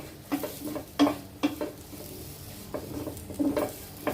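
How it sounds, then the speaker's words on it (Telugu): Curry leaves crackle in hot oil while a spoon stirs, giving a soft sizzle with repeated scraping clinks of metal against the pan at an uneven pace. "ఇప్పుడు కొంచెం కరివేపాకు వేసుకుందాం."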